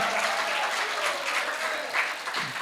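Applause from the audience at a kavi sammelan, a Hindi poetry gathering held at an institute of technology, forming a dense, steady wash of clapping that stays loud and even for a few seconds.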